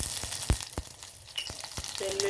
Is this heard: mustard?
yes